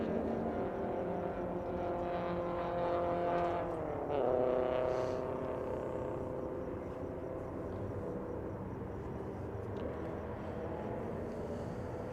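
Race cars droning around the circuit during a Super TT endurance race at Sydney Motorsport Park, a continuous distant engine roar with one car's pitch sweeping past mid-way, fairly quiet and without commentary.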